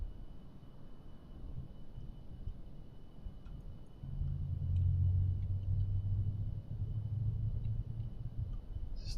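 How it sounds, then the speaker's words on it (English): A truck engine idling nearby with a low, steady rumble that swells louder midway and keeps droning to the end, with no talk over it. "Still hear his truck going."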